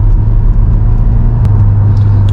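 A JDM-spec Honda S2000 AP1 roadster's engine drones steadily while driving along a country road, a loud, constant low hum with road rumble and no talk over it.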